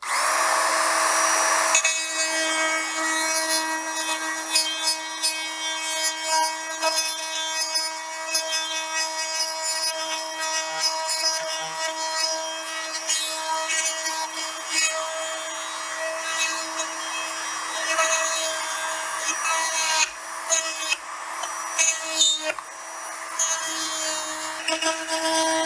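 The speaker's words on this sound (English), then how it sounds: "I'll show you with the Dremel." Dremel rotary tool cutting through a circuit board during an upgrade from EEW 6.0 to 6.1 board, a steady high-pitched whine with grinding rasp running loud and continuous throughout, with no talking.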